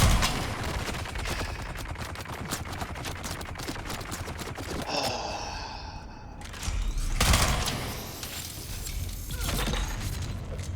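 Gunfire in the video game Dune Awakening, with dense rapid automatic bursts rattling continuously, then a short pause and more loud close shots amid game effects and clatter.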